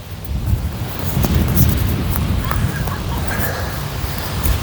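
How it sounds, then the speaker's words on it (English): Strong gusts sweep a lakeside beach in Kelowna, roaring into the microphone as a dense, uneven rumble with faint lapping water beneath, steady for several seconds and swelling slightly toward the end. "It is definitely pretty freaking windy today."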